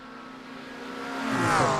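A race car engine in a racing video game on a lightly wet track, droning steadily and then rising in pitch and volume as it revs up toward the end, with no talking.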